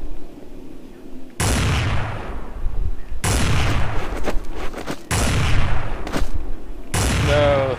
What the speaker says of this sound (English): Machine gun. And then never let go of the button.